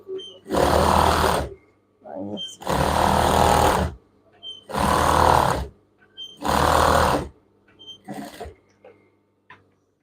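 A sewing machine stitches elastic into children's pajama pants. It runs in four loud, steady bursts of about a second each with short pauses between, then gives a few brief stuttering stitches.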